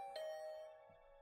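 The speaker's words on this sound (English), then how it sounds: "I just returned to my room when the doorbell rang." A video game doorbell gives one short, bright chime, clear and isolated against near silence.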